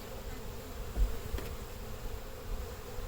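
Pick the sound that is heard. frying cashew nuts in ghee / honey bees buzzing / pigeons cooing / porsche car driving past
honey bees buzzing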